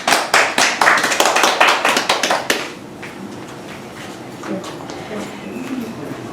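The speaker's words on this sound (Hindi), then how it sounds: "आइए हम स्तुति आराधना के लिए प्रभु का तालियों से स्वागत करते हैं।" A church congregation claps hands together in quick, steady rhythm for about two and a half seconds, the loud claps then stopping abruptly and leaving a quiet room murmur.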